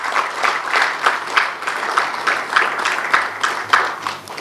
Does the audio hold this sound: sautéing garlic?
no